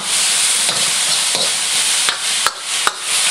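Beef for fried rice sears and sizzles in a hot wok with a little oil, a loud steady hiss broken by several sharp scraping stirs of the spatula toward the end.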